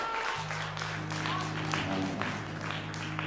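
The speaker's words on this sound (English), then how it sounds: "Now give the Lord a hand clap of praise in this place." A church congregation claps in praise during worship, a continuous crowd patter blended with a sustained organ-like tone and a voice speaking over it.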